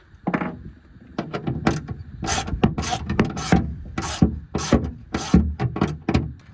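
Threads are tapped into holes in a 2015-or-later Ford F-150 truck frame, a run of close, uneven metallic rasping strokes and clicks with short pauses between them.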